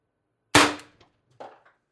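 An Umarex TR50 HPA air rifle fires a 12.7mm ball bearing into plywood at 1100 psi: a single sharp, loud crack, followed moments later by a fainter knock of impact.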